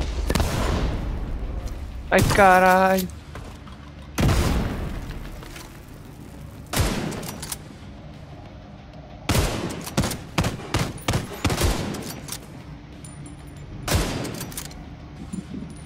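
Loud grenade explosions boom repeatedly amid gunfire in Tom Clancy's The Division 2, several blasts spaced across the clip with short pops between, while a man swears briefly.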